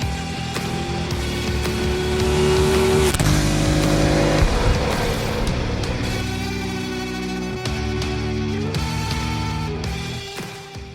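Go-karts race around a track at ADK Karting, engines buzzing and revving close by with rising and falling pitch as they accelerate and brake, loud and continuous with no talking.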